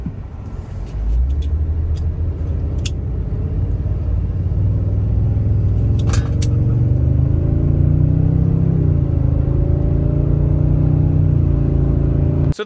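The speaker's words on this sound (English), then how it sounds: "The truck went up to speed like a champ." A 2023 Toyota Tundra pickup's engine, towing a heavy load beyond its payload limit, rumbles and climbs steadily in pitch as it accelerates, a heavy, continuous drone close by.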